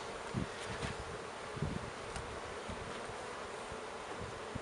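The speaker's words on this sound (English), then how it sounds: "see if they can hear the buzzing" Steady honeybee buzzing drones outdoors at a moderate level during a honey harvest, with light rustling and a few soft bumps beneath it; no one speaks.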